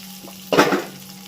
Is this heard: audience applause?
no